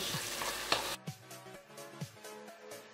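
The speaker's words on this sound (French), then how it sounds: "nous allons venir mettre notre bouillon de légumes. Et on mélange." Tomato rice with vegetable broth being stirred in a pot, a steady wet bubbling sizzle at first, then quieter with repeated soft scraping strokes of a spoon about every half second, close and alone.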